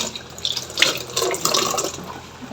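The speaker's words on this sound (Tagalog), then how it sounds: "meron pa bang daloy ng tubig?" Water runs from a tap in a home lavatory, a short close splashing flow with small drips and gurgles, without talk.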